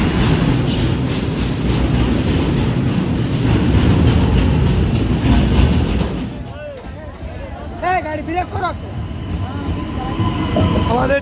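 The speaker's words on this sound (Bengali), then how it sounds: "আমাদের ট্রেন চলে এলো" A passenger train pulling into a West Bengal station, loud rumble and rattle of the cars for several seconds, then high metallic wheel squeals as it slows, with people talking nearby.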